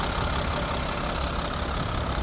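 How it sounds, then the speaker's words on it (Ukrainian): A 2016 Mercedes-Benz Sprinter van's three-litre engine runs at idle, a steady, dense mechanical drone with a light ticking texture and no voices. "На таких пропускних мачках трьохлітровий двигун працює просто ідеально."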